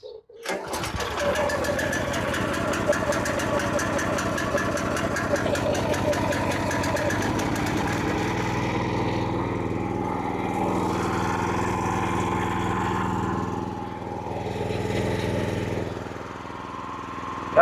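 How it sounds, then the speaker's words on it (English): Loncin G420 petrol engine on a pressure washer, pull-started and then running steadily at half throttle with a continuous buzzing drone, close and fairly loud, with someone speaking briefly. "there's our Lonson G420, and then we're going to try and get a start"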